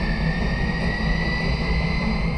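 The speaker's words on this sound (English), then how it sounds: "you stand the power up a bit, almost to vertical, and you watch the engines spool up." Jumbo jet engines, four of them, spool up at the end of a runway before takeoff, making a steady, loud turbine roar with a low rumble and a high whine, and no one talks.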